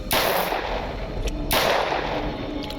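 An unsilenced SMG fires in Stalker Anomaly, with two loud sharp bursts about a second and a half apart, each ringing out into a broad crackling echo over steady background noise.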